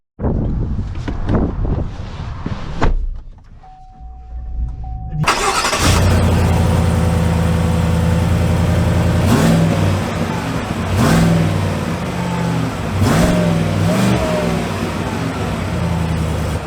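A Chevy Silverado 1500 RST truck pulls off and drives, its engine rising from a quiet start into a steady, loud run with wind noise and several surges of revving as it gathers speed.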